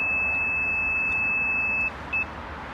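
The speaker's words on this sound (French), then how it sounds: "je te désactive l'alarme. Ah, ça Hop. va sonner." A loud, steady electronic alarm beep from a 2023 Yamaha R1 motorcycle holds for about two seconds while being disarmed, then cuts off, followed by one short chirp.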